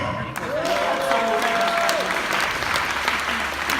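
Audience applause fills a forum hall in Ukraine, a dense sustained clapping from a large crowd, loud and steady throughout, with a brief sung or held vocal tone rising above it early on.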